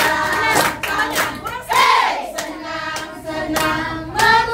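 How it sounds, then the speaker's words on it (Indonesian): Hands clap along to a worship song, a series of sharp, close claps in a loose rhythm mixed with singing voices. "Gerakan badan, tepukkan tangan."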